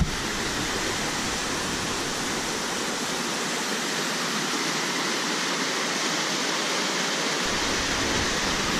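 A creek along the Rebman Trail at Ferne Clyffe State Park in Goreville, Illinois rushes in a steady, full broadband wash of flowing water, close and constant throughout with no voices.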